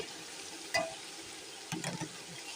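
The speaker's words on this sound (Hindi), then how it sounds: "तो अब इसमें डालते हैं फूल गोभी" Cauliflower florets tipped into a pan of frying vegetables and potatoes for pulao, with a faint background sizzle, a brief clatter, then a short burst of stirring and scraping, close up.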